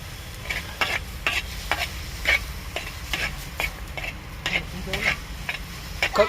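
Tomato chutney fries in a pan with a low, steady sizzle, broken by repeated scraping and stirring strokes of a utensil at an irregular pace, close up.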